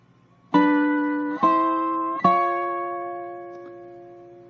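Three plucked dobro notes step upward one after another in a walk-up, each ringing out with a long sustain and fading slowly.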